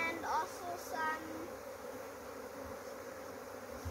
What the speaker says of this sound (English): When the bees are moving into a box like this, this is when they are the calmest.